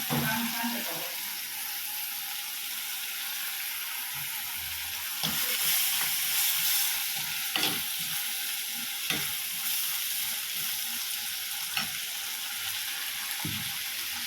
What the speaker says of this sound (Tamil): நல்லா வெங்காயம் வதங்கட்டும் வெங்காயம் வதங்கிட்டு இருக்கும் போதே நம்ம கருவேப்பிலை கொஞ்சம் சேர்த்துக்கலாம்